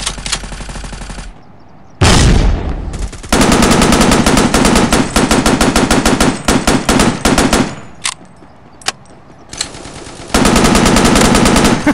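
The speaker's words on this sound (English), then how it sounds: "I fired blindly." Loud, close automatic gunfire in the first-person shooter Forward Assault comes in rapid bursts separated by short pauses, with long sustained strings of shots, each burst cutting off sharply.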